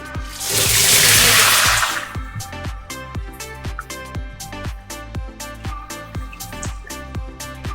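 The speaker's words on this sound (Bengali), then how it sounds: "পেঁয়াজটা আমি ভালো করে ফ্রাই করব।" Onion paste hits hot oil already holding two dried red chillies and two bay leaves for chicken rezala, giving a loud burst of sizzle that settles into steady crackling spatter.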